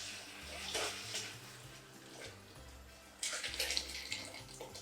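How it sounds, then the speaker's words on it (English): Broth with corn poured into a pan of fried sauce, giving a steady liquid splash and trickle that swells louder toward the end. "once the sauce is fried, we're gonna add the broth."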